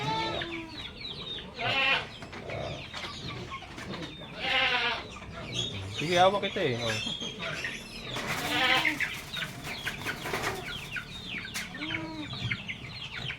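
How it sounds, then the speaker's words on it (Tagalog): Goats bleat repeatedly on a farm, several loud wavering calls close by, mixed with clucking from nearby chickens, while a person speaks briefly. "Ito yung malaking kambing, oh."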